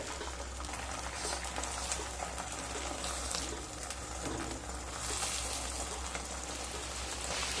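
Eggs frying in hot butter and oil in a pan on medium heat, a steady dense crackling sizzle that stays loud and even throughout with no voices.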